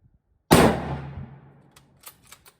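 A Mosin Nagant M44 round-receiver rifle fires a single loud, close shot with a sharp crack and a long rolling echo. A few faint clicks follow, with no speech.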